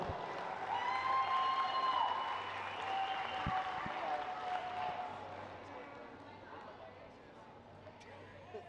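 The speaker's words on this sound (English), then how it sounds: "Give this crew another round of applause" Applause and crowd noise at a powerlifting pro series finals, steady at first and slowly tapering off, mixed with a loud room hum and a couple of thumps.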